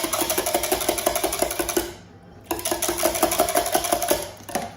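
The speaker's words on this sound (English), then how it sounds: "Now I'm just going to whisk that up." A whisk beats milk and eggs for Yorkshire pudding batter in fast, even rhythmic clicks against the bowl, stopping for a moment before starting up again close by.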